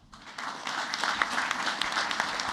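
Steady, dense applause from the audience at a school board of education meeting, many hands clapping at once in a continuous wash that swells slightly and holds for the whole stretch.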